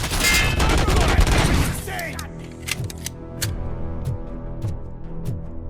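Gunfire in the video game RoboCop: Rogue City, opening with a loud sustained burst of rapid shots that stops abruptly, followed by a few sparse sharp single shots over a low game soundscape.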